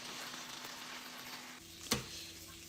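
Chicken frying in a pan gives a faint, steady sizzle, with a sharp click or clatter near the end.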